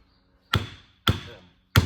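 Three sharp metallic whacks on a differential part from a 1957 Ford Thunderbird during teardown, each close and loud with a short ringing decay, spaced roughly half a second to three quarters of a second apart.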